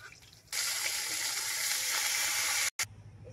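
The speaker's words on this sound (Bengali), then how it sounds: "আর বাকিগুলো আমি এভাবে ভেজে নেব" Katla fish pieces fry in hot oil. The sizzle bursts in after half a second, holds fairly steady and close, then drops out briefly near the end before faint noise resumes.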